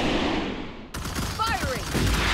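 Troopers fire their guns at bugs in the video game Starship Troopers Terran Command. A dense, loud burst of rapid gunfire suddenly cuts in and keeps going, with chirping whistles laid over it.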